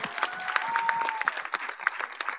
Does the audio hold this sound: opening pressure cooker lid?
no